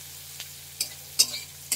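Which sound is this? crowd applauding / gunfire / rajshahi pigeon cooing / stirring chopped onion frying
stirring chopped onion frying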